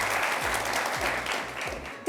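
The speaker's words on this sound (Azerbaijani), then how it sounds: "inşallah Afaq xanımı bir alqışlayaq" An audience applauds on a TV talent show in Azerbaijan, and the clapping stays loud and dense throughout. A host's voice carries over it.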